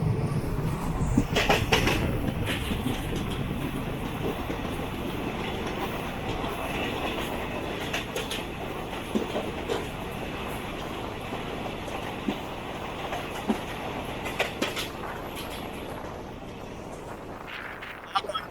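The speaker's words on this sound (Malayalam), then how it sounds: "കേരളത്തിലെ അവസാനത്തെ സ്റ്റേഷനായ പാറശാലയിൽ വെച്ച് നമ്മൾ ഐലൻഡ് എക്സ്പ്രസ്സിൽ ക്രോസ് ചെയ്യാണ്" Island Express, the Kanyakumari–Bangalore Express, crossing at Parassala station, heard from onboard a moving intercity train: a steady rumble of rolling wheels and wind with scattered clicks and clunks from the tracks.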